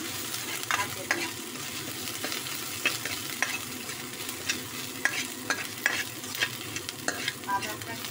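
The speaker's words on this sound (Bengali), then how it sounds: "আদাটা একটু নেড়ে চেড়ে দিচ্ছি যাতে একটু কাঁচা গন্ধটা কেটে যায়" Ginger fries in a pan with a soft, steady sizzle while a utensil stirs it, its scrapes and taps recurring irregularly at moderate volume.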